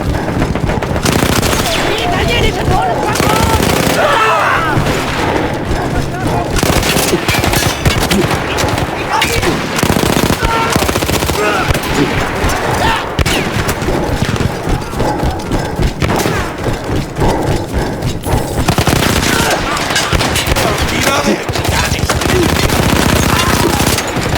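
A World War I machine gun fires nonstop in the Battlefield 1 video game, loud and close, with dense rattling bursts, thuds and booming impacts of battle filling the whole stretch.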